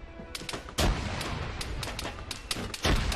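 Grenade blasts and heavy gunfire in the Arma 3 King of the Hill battlefield: a loud broadband explosion lands near the start, with scattered sharp shots cracking throughout and a second heavy blast near the end.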